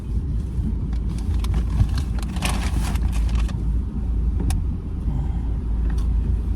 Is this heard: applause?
no